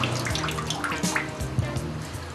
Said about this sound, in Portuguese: para que a água saia por igual de toda a superfície da folha